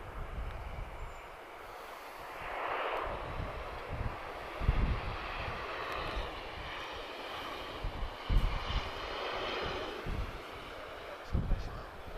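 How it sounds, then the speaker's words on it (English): A Ryanair Boeing 737 arriving at Lisbon Airport makes a distant, rising jet rumble and roar over windy outdoor background noise with occasional low thumps. "Ryanair inbound, Foxtrot Romeo 789, arriving from Bologna"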